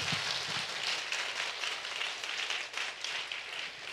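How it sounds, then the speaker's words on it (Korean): Church congregation applauding together, a steady wash of many hands clapping that fills the room, moderately loud and continuous without talk. "하나님께 영광의 박수를 좀 들었으면 좋겠습니다."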